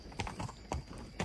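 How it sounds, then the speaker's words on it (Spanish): Horse hooves clip-clop on the ground in rural Valle del Cauca, Colombia, a few uneven close thuds with no talking. "Me encantan los caballos, los animales."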